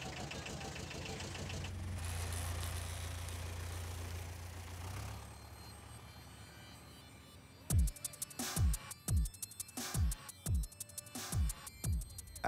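A truck engine idles steadily as it warms up, with a low continuous drone for several seconds, then the background thins and a series of sharp percussive knocks repeats at a steady rhythm near the end.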